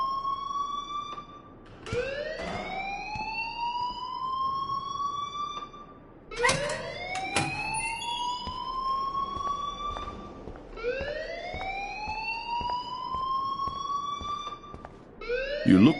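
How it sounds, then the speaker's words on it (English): An alarm rings in the video game Life is Strange, with rising wailing sweeps that repeat about four times, loud and steady, with no talk over it. "please turn off that alarm since that's your job."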